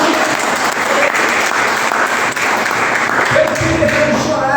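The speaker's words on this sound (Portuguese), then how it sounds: "Você pode aplaudir o nome dele" A worshipping church congregation claps loudly and continuously, a dense, sustained wash of applause throughout, with a voice speaking faintly beneath it near the end.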